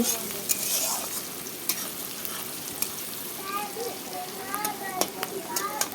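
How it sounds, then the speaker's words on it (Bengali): Sliced onions fry in hot oil for a Bengali egg curry, a steady close sizzle with occasional spatula scrapes and light metallic clinks throughout. "এখন দেখো তেলের মধ্যে পেঁয়াজ দিয়ে দিলাম ডিম চচ্চড়ির জন্য"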